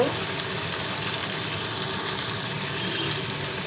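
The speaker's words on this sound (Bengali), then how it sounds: "এই আলু কষানোর মধ্যে আমি মাছগুলোকেও কষিয়ে নিব" Fish cooking in a pan with potatoes for a Bengali shol fish jhal gives a steady, close, broadband sizzle and hiss that runs evenly throughout with no talking.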